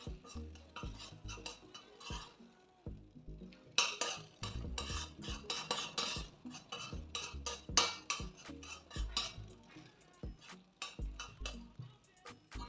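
A spoon scrapes and clinks steadily against a pan as butter and sugar caramelize, the stirring coming in close, uneven strokes over a soft background sizzle.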